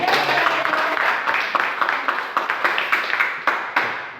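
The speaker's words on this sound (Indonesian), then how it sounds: "Oke, tepuk tangan untuk kelompok ini." Audience applause for a presenting group in a classroom, a dense patter of claps that thins toward the end into a few separate loud claps.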